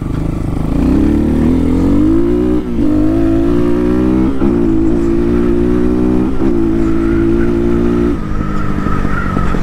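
A Chinese-made dirt bike, essentially a Honda knockoff bought from Amazon, runs loud and close, its engine note rising and dipping through repeated revs and throttle changes with no talking over it.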